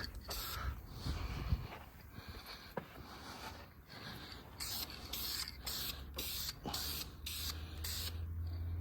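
An aerosol can hisses in repeated short bursts as a first coat of paint goes onto the intake manifold of a 1967 Pontiac Grand Prix, the sprays quiet and closely spaced with pauses between them.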